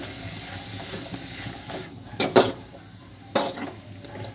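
Chilli and turmeric powder being stirred into frying soya chunks in a pan, with a steady low sizzle and a couple of sharp scraping clatters of a spoon against the pan.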